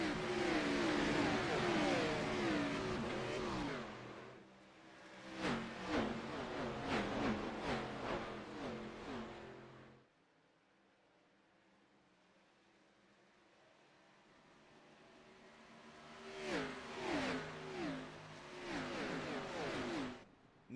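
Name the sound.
stock cars racing past at Darlington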